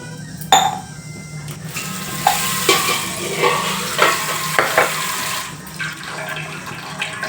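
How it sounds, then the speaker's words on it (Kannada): A spoon scrapes and stirs through a thick masala mixture for fish fry in a bowl, with repeated clinks and scraping strokes over a steady background hiss. "ಈಗ ಒಂಚೂರು ಮಿಕ್ಸ್ ಮಾಡ್ಕೊಳೋಣ"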